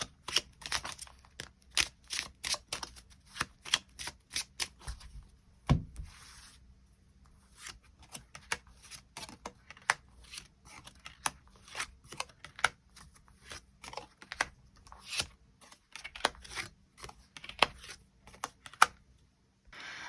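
Tarot cards being shuffled and drawn, a rapid series of crisp close flicks and slaps of card stock, quiet and dense, with one soft thump midway and no talk.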